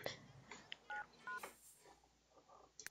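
Telephone keypad tones dialing a number in a Cinderella life-simulation video game, several short beeps spaced apart over quiet background sounds.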